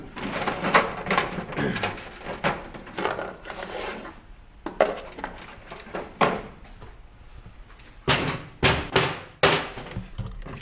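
Rummaging through a toolbox for pipe thread taps, with repeated clattering metal knocks, clinks and scrapes in uneven bursts, close and fairly loud, no talking.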